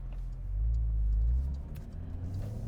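A 2021 Porsche 992 Targa 4S with its roof up gives a deep, steady engine rumble that swells briefly and then settles, heard close with no talking.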